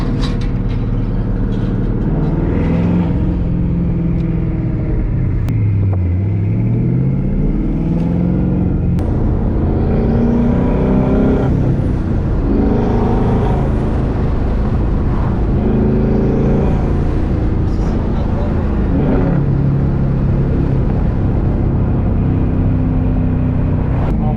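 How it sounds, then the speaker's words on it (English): A powerful twin-turbo Mustang Boss 302 engine revs and drones while driving, with a whining straight-cut gear tone rising and falling across gear changes, loud and continuous. "It's normal because it has straight cut gears."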